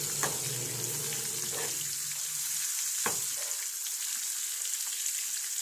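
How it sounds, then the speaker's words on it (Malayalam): Fish frying in hot oil in a home kitchen for fish curry and fried fish, a dense, continuous sizzle with a few brief clinks of a utensil, close up and steady, with nobody speaking. "മീൻകറിയും മീൻ വറുത്തതും ആയിക്കൊണ്ടിരിക്കുന്നു"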